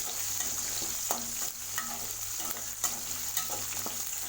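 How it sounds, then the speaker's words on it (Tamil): Shallots and garlic fry in a pan for bitter gourd curry, a continuous close sizzle with irregular stirring clicks and scrapes of a spoon. "பூண்டு பாருங்கள் நல்லா வதங்கிருச்சு"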